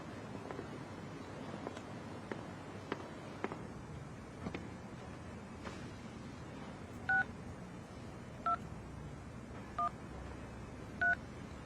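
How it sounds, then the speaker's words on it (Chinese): Telephone keypad tones beep four times at a steady pace, each short and distinct, over low steady background noise near a seaside house, with no talk. "我还要打个电话。"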